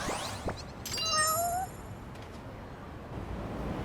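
A cat in the video game Lost Judgment meows a couple of times, close and clear, over soft background game ambience, with a brief sharp noise just before the meows.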